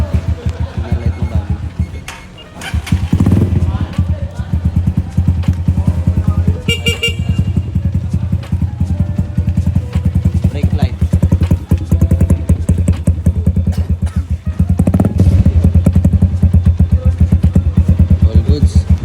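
A Honda TMX 125 scrambler motorcycle engine runs steadily and loudly close by during a test run, its low rumble continuous throughout, with brief rev swells and what sounds like a horn toot partway through.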